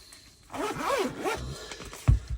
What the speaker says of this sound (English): So well done, Filofax, for having a very, very good zip.